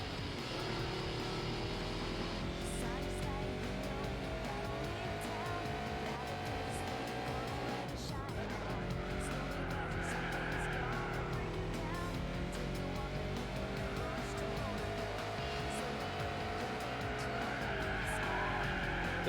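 A car slides through a corner during a rallycross race in the video game Gran Turismo 4, engine revving steadily with rising and falling pitch, tires scrubbing and gravel hissing beneath, all at a moderate, continuous level.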